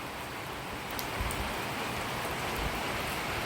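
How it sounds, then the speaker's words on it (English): Rain falling into a pool during the rainy season in the Philippines, a steady even hiss of drops, fairly close and constant, with no voices. "Can you see the raindrops?"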